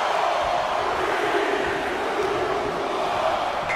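Arena crowd roaring in the WWE 2K24 video game during a 30-man Royal Rumble match, a steady, dense wash of massed voices with no pauses, continuous and fairly loud throughout.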